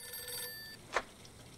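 A telephone rings inside a brothel in the Mafia 2 video game, one sharp bell burst following a fading electronic tone, heard alone in a quiet room.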